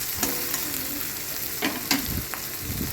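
Potato pieces fry in hot oil with ginger and cumin paste in a pan, giving a steady close sizzle broken by a few sharp scrapes and clacks of a spatula stirring.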